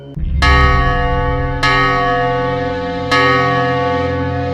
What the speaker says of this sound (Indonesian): tiba-tiba lonceng desa berdentang 12 kali